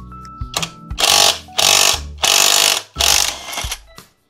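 Rear wheel nut being removed from a Honda ADV 160 scooter, heard as repeated loud rattling bursts of an impact tool, about four long runs separated by short pauses, close and without talk.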